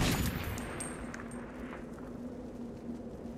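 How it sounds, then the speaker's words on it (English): A Gatling shotgun fires in the video game Metro 2033, a loud burst at the start that fades into a lingering rumble and echo, with a steady hum underneath. "We're gonna breach and clear with the Gatling shotgun"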